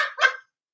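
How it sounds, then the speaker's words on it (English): A dog gives two quick, close barks in a short burst, the second louder, followed by silence. "That's the dog."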